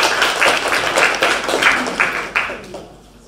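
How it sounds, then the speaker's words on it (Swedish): Applause breaks out for a speaker at a church panel discussion on volunteer work, a small crowd clapping with rhythmic swells that thin out and fade toward the end. "En applåd till Emilia också."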